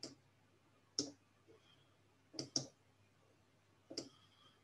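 Sparse, sharp mouse clicks in a computer coding program, five or six isolated taps spaced irregularly over a near-silent background.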